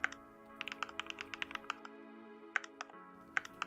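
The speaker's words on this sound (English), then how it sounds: "pressing B in keyboard." Rapid clicking key presses on a computer keyboard during video editing, a quick run of light taps followed by a short pause and a few more scattered presses, close and fairly quiet, with no talking.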